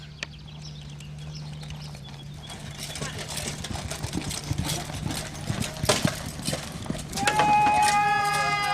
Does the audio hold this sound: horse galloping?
yes